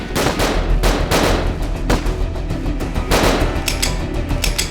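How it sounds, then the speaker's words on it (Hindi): Loud bursts of gunfire crack in rapid, irregular volleys, shots overlapping one another with short gaps between. "करिश्मा सिंह, हमारी गोलियां खत्म हो गई।"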